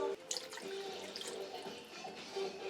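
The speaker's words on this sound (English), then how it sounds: "I'm going to add a half a cup of water." Water poured into a pan of onion and brown sugar mix on a stovetop, a short splashing trickle with some faint dripping, close and moderately loud with no talking.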